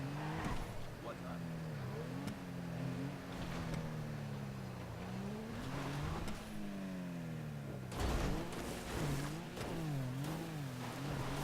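A Sultan car's engine in GTA V Online during hill climbing and stunt jumps, revving up and down in repeated swells with rough bumps and thuds, while a voice talks over it.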